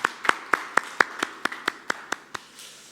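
A church congregation at a Sunday worship service claps in a brief round of applause, about a dozen distinct sharp claps in a steady rhythm that fade out after nearly three seconds.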